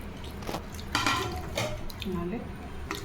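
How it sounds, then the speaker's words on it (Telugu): Paneer goes into a pan of curry with light clinks of a spoon against the pan and soft wet stirring, close and fairly quiet. "ఇప్పుడు మనం పన్నీర్ వేసుకోవాలి"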